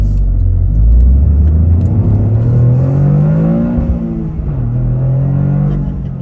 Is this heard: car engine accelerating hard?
yes